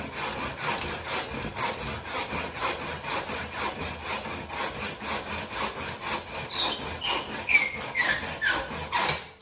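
Hand saw cutting through a wooden stick for a shillelagh handle, steady rhythmic back-and-forth strokes close up, with a few squeaks later on and no talking.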